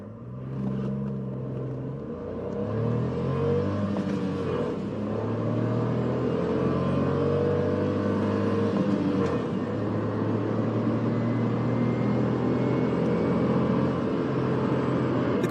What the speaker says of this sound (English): we're going to try a little 0 to 100 with this new Sandero 90 horsepower.